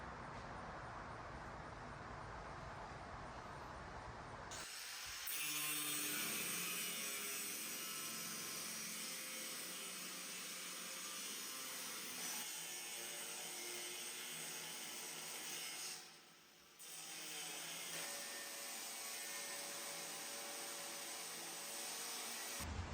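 Steel plate being cut out for a custom fire extinguisher mount on a Nissan 240SX, a loud continuous abrasive cutting whine that runs steadily for the whole stretch with one brief dip, near and without talk.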